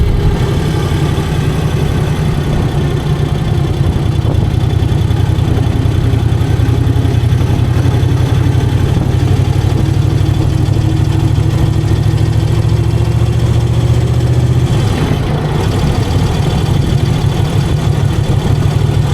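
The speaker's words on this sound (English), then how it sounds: "gentle tick of the engine's lovely." A 2001 Moto Guzzi EV80 Anniversary motorcycle engine idles steadily up close, a low even throb with a faint mechanical ticking that briefly shifts near the end.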